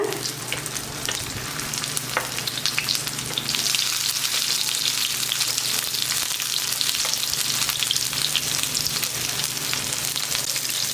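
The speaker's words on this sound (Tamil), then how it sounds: "கையில் எண்ணெய் தெரிச்சிடாமல் பார்த்து கவனமாக வைங்க மெதுவாக திருப்பி விட்டுக்கோங்க" Raw banana slices frying steadily in hot oil, a continuous loud sizzle with occasional crackles as the pieces are turned slowly, no voices.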